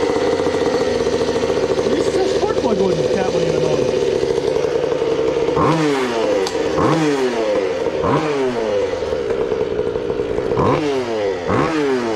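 A mini bike engine, recently fitted with a new carburetor, idles with a steady rattling drone, then revs up sharply several times in rising-and-falling bursts, loud and close.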